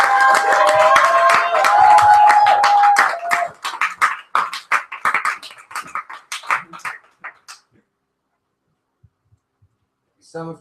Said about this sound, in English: And I want you to keep clapping because this is our final poet